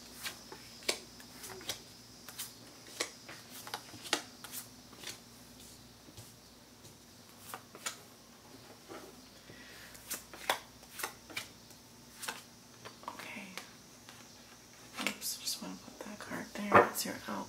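Tarot cards are shuffled in repeated short riffling bursts, close and soft in a quiet room, with faint murmured speech between them.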